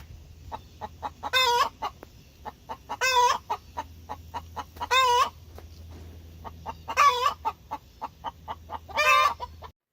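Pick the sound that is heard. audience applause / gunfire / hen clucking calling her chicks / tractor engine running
hen clucking calling her chicks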